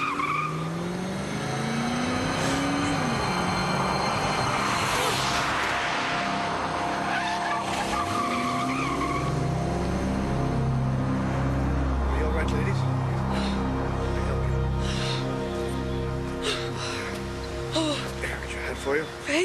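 Film scene of a car roaring close past in a near-miss, with engine rush and tire squeal swelling mid-scene over a dense bed of music and traffic noise, voices speaking around it.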